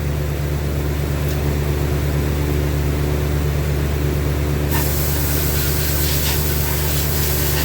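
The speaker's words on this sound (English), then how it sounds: "I'm gonna go in here and spray it right quick, or spray it with an air hose." Compressed air from an air hose hisses loudly and continuously while blowing dust off a rifle stock forearm during refinishing, a steady broadband spray over a constant low hum, growing brighter partway through.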